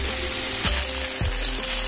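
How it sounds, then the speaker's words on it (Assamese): Fish roe fries with tomato and onion in a pan, giving a dense, continuous close sizzle with a couple of faint clicks and no talking. "আৰু এইফালে এয়া মাছৰ কণী, বিলাহী আৰু পেটটো অলপ আছিলে, আৰু পিঁয়াজ দি ভাজিছোঁ"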